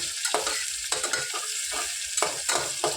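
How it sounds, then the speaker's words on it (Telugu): Sliced onion and green chillies frying in hot oil for a mutton curry, a loud continuous sizzle broken by repeated scraping stirs of a spoon against the pan. "వీటిని లైట్ గోల్డెన్ బ్రౌన్ కలర్ వచ్చే వరకు ఫ్రై చేసుకుందాం"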